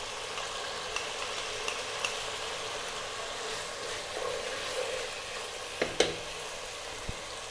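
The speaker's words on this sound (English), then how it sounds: "we're going to drop in 1 onion" An onion drops into beef frying in a pot for an Arab-style beef stew, over a steady close hiss of sizzling oil, with a few soft clicks and taps near the end and no talking.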